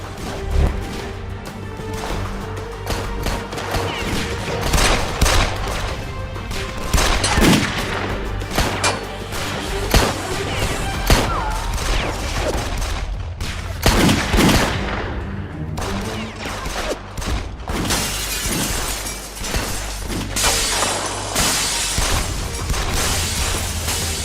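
Continuous bursts of gunfire, rapid and overlapping, with loud cracks and crashes filling a chaotic, noisy scene throughout.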